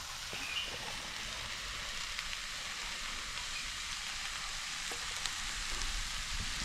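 Mushrooms frying in a pan for a quick Maggi noodle dish, a steady, fairly quiet hiss and sizzle of hot oil running evenly throughout with no talking.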